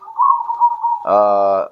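A zebra dove chick being hand-fed millet gives soft close cooing, a wavering tone followed by a harmonic-rich coo, loud and alone.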